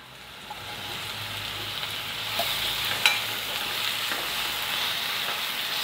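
Drumstick flowers and potato pieces frying in a pan make a steady, close hiss of sizzling, with occasional stirring scrapes and one small clink, no voices.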